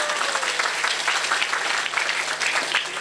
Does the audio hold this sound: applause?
yes